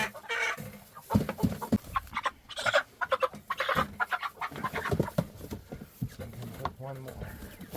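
Meat chickens cluck and squawk around a homestead on butchering day, a busy flock of repeated close calls in uneven bursts, with people's voices mixed in among the birds.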